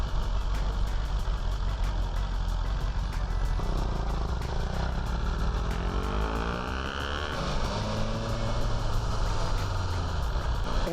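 Honda CX500 retro motorcycle engine running steadily and loud, a low throbbing rumble with rising and falling revs as the bike moves along, no talking over it.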